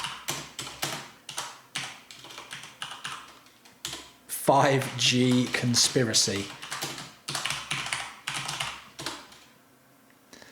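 Rapid keyboard typing in bursts of clicks, with a voice talking over parts of it and a louder stretch of mixed noise midway.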